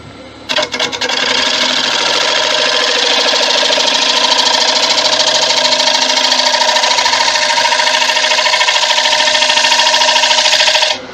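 A wood lathe spins a resin bowl while a carbide tool cuts its outside, giving a loud, steady, continuous whine and rasp that holds for about ten seconds with no talk.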